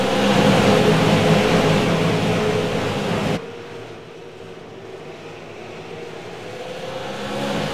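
A pack of Super Late Model stock cars roars in a racing sim at a Southern National short-track race, a loud, dense engine drone that drops abruptly partway through and then builds again.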